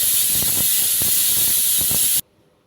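A pressure cooker cooking massoppu greens for saaru lets off a loud, close, steady hissing blast of steam that cuts off abruptly.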